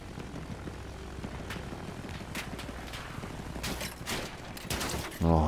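A World War I era airplane drones through a Battlefield 1 match, its engine rumbling under scattered gunfire and explosions, with a louder burst at the end.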